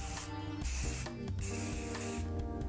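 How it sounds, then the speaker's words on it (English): Self-tan mist spray, a St Tropez face tan, is sprayed over the neck in a steady continuous hiss that lasts the whole moment, loud and close with no talk over it. "by using the same spray that you use for your face, you can simply put it above your neck and spray"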